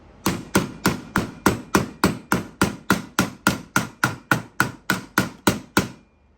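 A wooden mallet turned from yard firewood strikes a hard surface about eighteen times in a steady, even rhythm, each blow a sharp close knock with a brief ring, alone with no talk.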